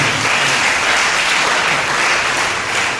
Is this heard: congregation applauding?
yes